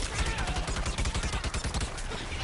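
Twin pistols firing in Plants vs Zombies Garden Warfare 2, a rapid run of loud repeated shots in a steady rhythm with other game sounds and speech underneath.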